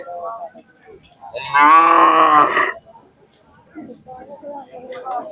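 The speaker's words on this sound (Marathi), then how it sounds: "हे कोणाची बैल आहेत" A Khillar bull at a village fair lets out one loud, drawn-out lowing moo lasting about a second, with people talking before and after it.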